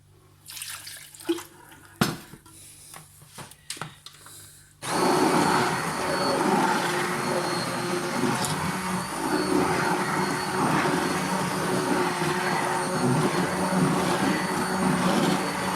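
Water is poured into chestnut cream, followed by a loud, steady blender whir that runs on without a break, after a few quieter kitchen knocks and clinks.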